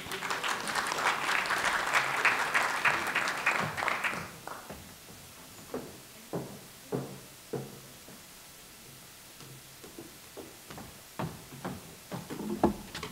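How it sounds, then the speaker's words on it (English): Audience applause welcoming a woman to the stage at a college event, a dense wash of clapping for about four seconds that then thins into scattered individual claps and taps. "Let's give her a round of applause, please."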